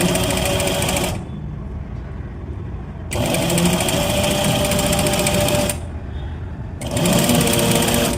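Sewing machine stitching a pin tuck along the edge of cloth runs in loud, steady bursts, stopping twice for about a second each time before restarting, with no talking over it.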